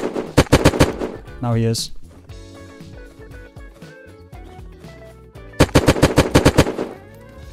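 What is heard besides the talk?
gunfire in the video game Unturned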